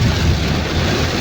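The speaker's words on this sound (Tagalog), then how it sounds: "Lakas ng ulan paro." Heavy rain pours down in a loud, dense, continuous roar that may carry a rumble of thunder, close to the microphone for a brief moment.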